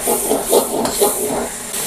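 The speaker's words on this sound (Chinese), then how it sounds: "把调味料全部炸香" Seasonings, soy sauce, thirteen-spice powder and oyster sauce, fry in a hot wok for a rural Northeast Chinese banquet stew, giving a loud, steady, close sizzle with no voices.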